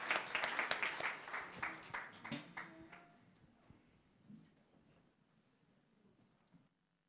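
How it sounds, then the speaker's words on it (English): A church congregation claps in applause, loud and dense at first, then thinning into scattered individual claps that fade to near silence. "Let's give the Lord a clap off."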